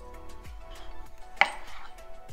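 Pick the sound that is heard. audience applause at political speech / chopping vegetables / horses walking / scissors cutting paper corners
chopping vegetables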